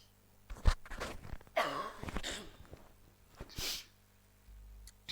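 A person coughs several times in quick harsh bursts close by, with a throat-clearing rasp and a sniff between coughs, and no talking.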